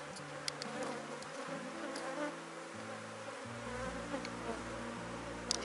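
Apis honeybees buzz in a dense, steady swarm close by during a hive split, shifting hum tones layered with occasional sharp individual buzzes and light handling knocks.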